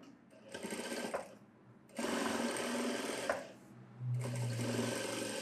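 Sewing machine stitching a blouse, three sustained whirring runs separated by short pauses, close and steady, with no talk.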